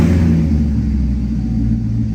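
A rebuilt Corvette engine idles steadily up close, a loud, continuous low rumble with no voices over it.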